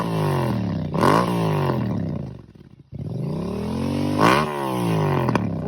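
A naked motorcycle's engine revs and roars up through the gears while riding, with two rising acceleration sweeps separated by a brief dip at a shift. It sounds close and loud, with no talking.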